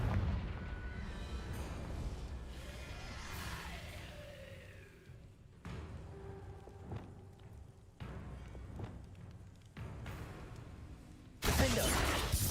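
Repeated Confringo fire-spell blasts in Hogwarts Legacy, loud booming bursts with crackling debris over a rumbling battle backdrop, several sharp hits spaced through the fight and a final heavy explosion.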